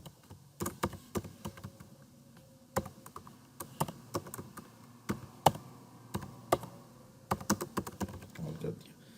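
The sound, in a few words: typing on a computer keyboard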